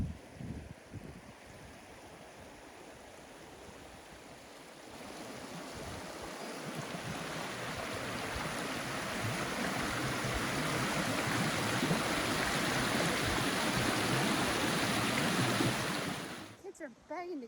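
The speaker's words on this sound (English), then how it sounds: "I want to walk over and show you the creek because it is roaring and it's awesome." A roaring mountain creek swollen after a storm, rushing water making a broad, steady roar that builds louder over the span, with some wind noise on the microphone.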